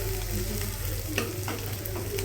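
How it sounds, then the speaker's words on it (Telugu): Cinnamon, clove and green chillies frying in a little oil, a close, even sizzle with a few light stirring taps and a low steady hum underneath. "అందులో వాటిని మంచిగా ఫ్రై చేసుకోవాలి"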